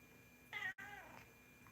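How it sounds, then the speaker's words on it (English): A cat meows twice in quick succession, a short close cry split by a brief gap, fairly clear above a quiet indoor room tone with no talking. "The cat agrees."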